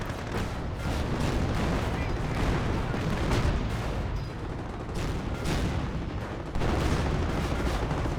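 Dense battle din from a Company of Heroes match: tank cannon fire and explosions rumble continuously, with heavy booms and bursts overlapping at steady loudness throughout.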